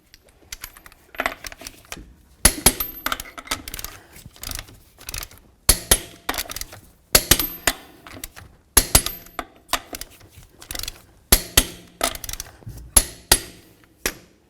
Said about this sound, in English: We're going to torque these to 140 foot-pounds in a crisscross pattern.